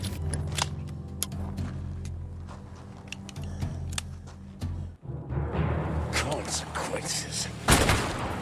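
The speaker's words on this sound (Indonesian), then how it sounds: "John Wick langsung menembak Vincent sampai modar dan menjadi pemenang duel ini" A gunshot from the John Wick 4 duel scene, a sharp burst near the end over a steady low musical drone, with a voice talking across most of the stretch.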